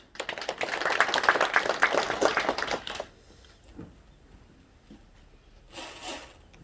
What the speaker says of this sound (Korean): 모두 큰 박수로 맞이해 주십시오